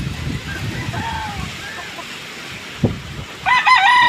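Fighting roosters cluck and crow in a farmyard, a few faint calls early, then a louder crow at the end over a low outdoor background.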